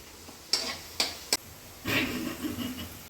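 Garlic sizzling in a hot pan, with a few sharp stirring clinks and scrapes early on, then a steadier, louder crackle of frying near the end.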